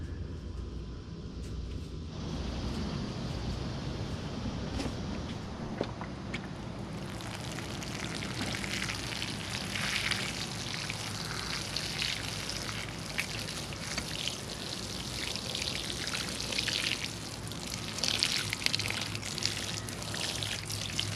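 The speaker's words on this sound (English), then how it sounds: "I will water these one time right now as I plant them" Water poured from a can or hose onto newly planted plumeria cuttings in a greenhouse, a steady splashing and trickling hiss into soil that goes on continuously with no talking.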